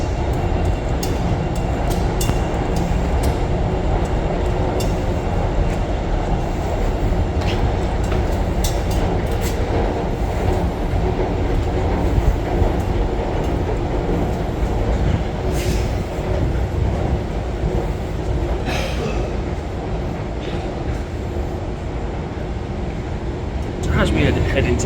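A Newcastle Metro train runs through an underground station beneath Central Station, a steady loud rumble and rail noise filling the whole stretch, with faint voices in the background.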